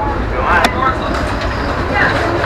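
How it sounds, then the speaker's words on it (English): A rumbling Downeaster passenger train rolls slowly to a stop with steady low clatter and hiss, a brief sharp brake squeal cutting through midway, with faint voices nearby. "the train stopped. I hear your brakes."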